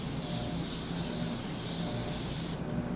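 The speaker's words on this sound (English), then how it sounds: "the second step is to spray it" Cooking spray hisses steadily from a can onto aluminum foil for nearly three seconds, a continuous close, broadband spray that cuts off abruptly near the end.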